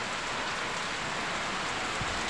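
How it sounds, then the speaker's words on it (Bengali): Heavy rain pours steadily onto a rooftop during a storm, a dense, even roar of falling water with no voices. "জল পড়ছে, ঝড় বৃষ্টি শুরু হয়ে গিয়েছে"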